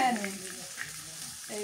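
Rupchanda fish fries in a pan in a village kitchen, giving a soft, steady sizzle over a short moment, with faint spatters.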